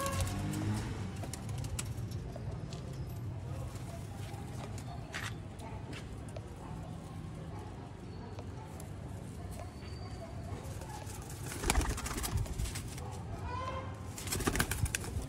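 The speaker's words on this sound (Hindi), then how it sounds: "ये हैं जी नायाब सियालकोटी" Soft cooing of Sialkoti pigeons and a few wing flutters in a busy loft, with low background rumble throughout and brief louder bursts near the end.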